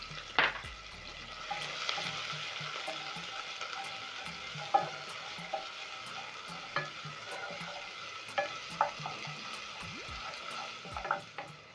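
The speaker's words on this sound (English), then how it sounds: "Once the whole spices are ready and very flavorful, I'm going to add in onion and garlic and ginger" Onion, garlic and ginger fry in a pan with whole spices for a plain pilau, giving a steady, moderate sizzle broken by scattered scrapes and clicks of stirring. No one speaks.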